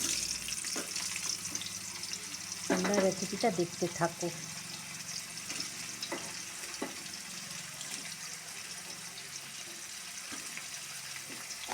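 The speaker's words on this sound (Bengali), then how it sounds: "এবার আমি এটাকে ভাজা বসাবো" Steady oil sizzle from paneer frying in a pan runs throughout, with a brief clatter of stirring near the start and someone speaking over it.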